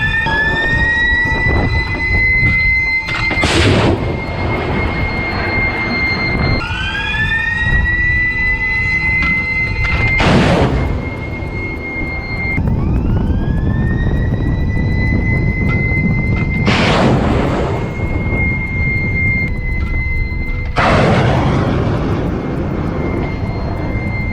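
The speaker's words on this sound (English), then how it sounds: "Now let's watch and listen to the RAM in action" RAM missiles launch one after another, four sharp roaring blasts each followed by a rising whine as the missile streaks away, over a constant loud rumbling background.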